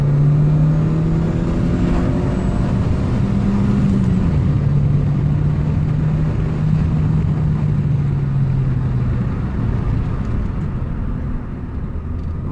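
A 2011 Opel Astra hatchback with a 2.0 engine pulls hard under acceleration, its close, loud drone rising and falling in pitch as the revs climb through the gears, with road and wind noise beneath.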